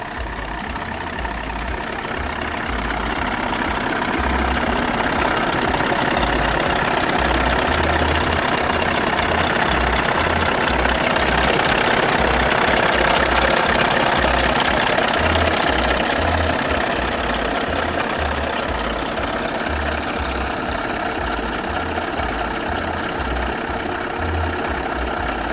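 A retro car's engine idling, a loud, steady low rumble with a rhythmic knocking pulse that continues unbroken throughout, with no voices.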